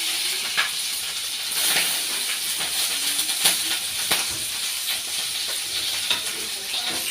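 Mustard seeds and chopped green chillies sizzle in hot oil, a steady close hiss with scattered little pops and crackles running throughout.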